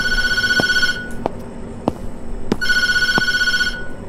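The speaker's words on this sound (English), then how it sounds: "I don't like that the phone is ringing" Telephone in the horror video game Tattletail ringing in two long bursts separated by a pause, loud and close, with a few sharp knocks between the rings and no talking.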